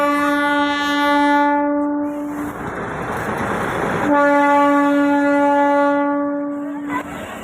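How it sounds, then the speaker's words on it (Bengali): Darjeeling toy train arriving at Ghum station, a long loud steady horn blast, then a burst of rumbling noise from the passing train and the horn sounding again, with no talk. "এই টয় ট্রেন আসছে বন্ধুরা"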